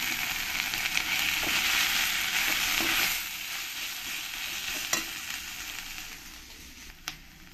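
Onion paste with cumin, coriander and chilli powders sautéing in a pan for a katla fish and banana flower dish, giving a steady close sizzle with stirring scrapes and a few sharp clinks, easing slightly after three seconds.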